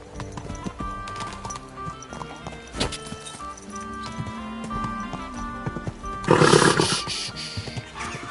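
Steady clip-clop of horse hooves throughout, with a loud burst of whinnying near the end, set against a busy background.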